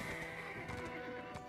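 A horse in the online game Black Desert Online gives a brief whinny over game ambience, moderately faint and alone without talk.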